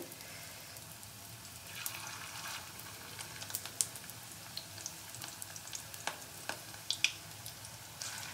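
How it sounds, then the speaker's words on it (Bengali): Rohu fish roe pakoras frying gently in oil over a low flame, a soft, even sizzle with scattered small pops and crackles, close and without talk. "আস্তে আস্তে ভাজা হোক।"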